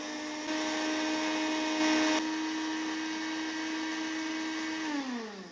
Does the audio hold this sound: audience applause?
no